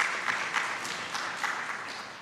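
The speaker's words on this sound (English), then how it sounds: "I request that you appreciate them with a hand clap" A conference audience applauding steadily, a dense patter of many hands clapping at once with no voices over it.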